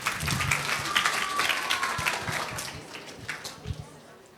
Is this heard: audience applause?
yes